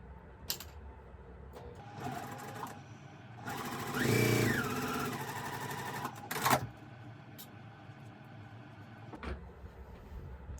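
A sewing machine whirs in a short burst of rapid stitching, with quieter mechanical clicks and handling noises before and after.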